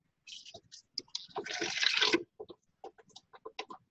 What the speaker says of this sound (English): Now, just pour this back into your stock pot.